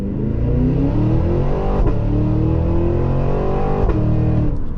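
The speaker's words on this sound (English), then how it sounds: "here's how to do 0 to 60 in the new Escalade V" A Cadillac Escalade V in its V mode launches hard from a standstill to 60 mph, its engine roaring loud and steady throughout, with gear changes breaking the rising drone at intervals.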